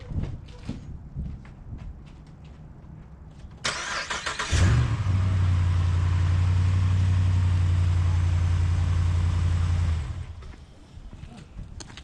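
A 4th-gen Ram 1500 4x4 pickup truck starts up during front sway bar end link work in a garage, settling into a steady close idle for several seconds before shutting off, with shuffling and clanks around it.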